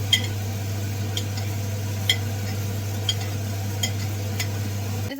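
Squid filling with coconut and curry leaves is stirred in a pan, heard as faint sizzling under a low steady hum with a few light, sparse clicks of the utensil against the pan, and no talking.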